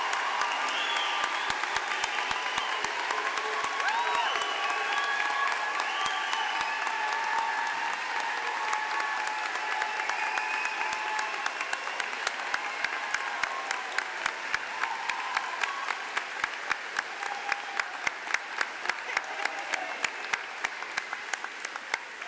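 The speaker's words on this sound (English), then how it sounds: "the goal is to just share in a roaring applause" A crowd at an outdoor spring commencement ceremony claps and cheers in a long, roaring round of applause that holds for over twenty seconds, thinning to scattered individual claps toward the end.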